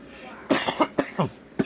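Several sharp coughs in quick succession, close to the microphone, with short pauses between each burst.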